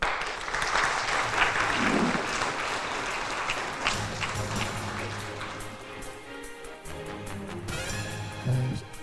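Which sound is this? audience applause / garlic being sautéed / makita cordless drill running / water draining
audience applause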